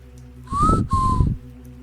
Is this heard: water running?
no